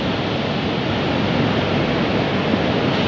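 Large ocean waves roll onto a beach in Baler, Aurora, Philippines, on a cool early morning after rain, heard as a loud, steady broadband surf roar that stays constant throughout, with no voices.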